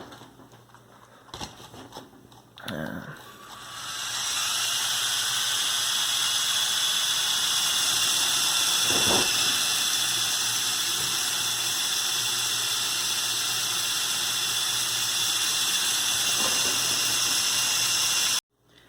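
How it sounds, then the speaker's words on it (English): Lego Technic Canadair CL-84 tiltrotor model with rotors spinning in vertical mode, a steady whirring mechanical hum of gears after a few clicks and clunks, sustained close and even, then stopping abruptly. "I'll just demonstrate the rotors once again, because they look cool in this mode"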